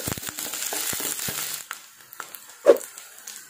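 Onion, curry leaves and green chilies sauté in a pan for a fish curry: a soft sizzle under scattered scraping and clinking of a spoon, fading quieter, then one sharp knock against the pan.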